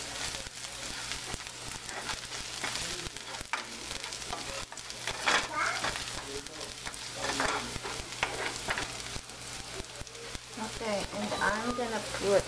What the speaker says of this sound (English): So just fry the garlic until it's golden brown.